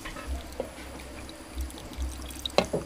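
Yanang leaf juice poured into a pot of bamboo shoot soup, a soft liquid pour with faint trickles and drips, ending in a brief louder splash and clatter near the end.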